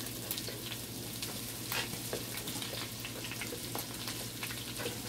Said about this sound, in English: I'm just going to add my onion and garlic right now